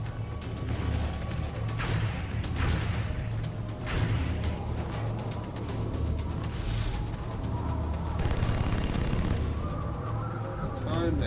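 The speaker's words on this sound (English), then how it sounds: "Let's shoot you because you're close." Gunfire in the turn-based tactics game XCOM Long War Rebalanced, a string of sharp shots and bursts spread through the passage, steady and fairly loud under game music and a speaking voice.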